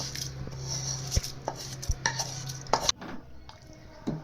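A spoon scrapes and clinks against a metal pot in irregular strokes while soaked rice is mixed in, close and fairly quiet, with no one speaking.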